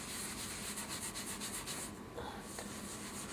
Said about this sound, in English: now we're going to use our microfiber cloth, and we're just going to scrub this baking soda in real good